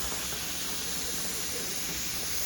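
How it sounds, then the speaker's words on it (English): Steam hissing steadily from the vent of a pressure canner processing dried beans, a loud continuous broadband hiss with no breaks. "when you see the steam going, let it steam for 10 minutes"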